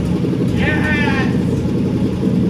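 A freshly started car engine idles, a steady low rumble running throughout, with a brief voice heard over it.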